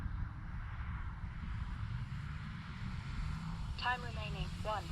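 An E-flite Timber Turbo Evolution electric RC plane drones faintly and steadily at a distance over broadband wind-like noise, with a brief burst of talk near the end.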